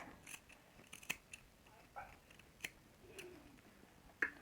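Scissors snip through ribbon used in Kazakh patchwork quilting, a handful of separate, crisp cuts spaced irregularly with quiet pauses between, close and fairly soft.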